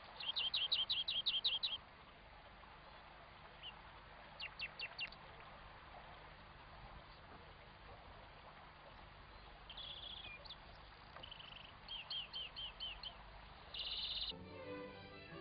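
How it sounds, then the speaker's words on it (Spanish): European greenfinch male and female singing, bursts of bright rapid trills and twittering phrases repeated at intervals, moderately near over a quiet background. "Verderones comunes, Carduelis cloris, macho y hembra."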